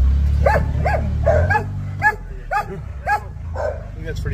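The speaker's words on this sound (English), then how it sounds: "I don't know why they bark like that, right?" Several dogs bark and yip in short repeated bursts, close by, with a low steady engine-like drone underneath at the start, in a garage-type setting during work on a Honda Talon side-by-side.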